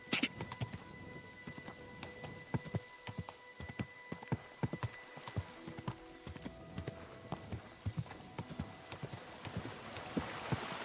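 Horse hooves clip-clop steadily at a walk in the medieval game Kingdom Come Deliverance 2, close and fairly quiet, with faint background ambience and no speech.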